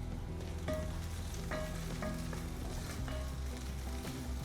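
Green chilies and the white part of spring onion frying in a greased iron kadhai, a steady close sizzle with occasional stirring scrapes running throughout.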